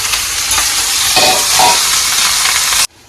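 Thinly sliced ivy gourd frying in a hot pan and being stirred, with a loud, dense, continuous sizzle, some scraping swells in the middle, and an abrupt cut to near silence at the end.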